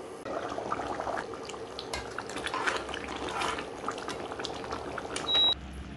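Chana masala simmers in a covered pot, giving a steady, soft bubbling and gentle hiss that runs evenly throughout at moderate volume, with no voices.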